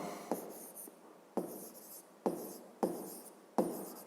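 Pen writing by hand on paper while working a fifth-grade math exercise, a series of five short scratchy strokes, each starting with a sharp tap, close and fairly quiet with brief pauses between.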